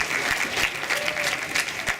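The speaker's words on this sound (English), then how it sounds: "Go ahead, you're clapping. Clap away." An audience at a dental society meeting claps steadily for a speaker about to come up, moderate, continuous applause from the room with no talking over it.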